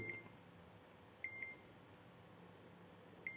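A multimeter in continuity buzzer mode gives a few short electronic beeps over near silence, two close together in the middle and one more at the end, clear and high-pitched.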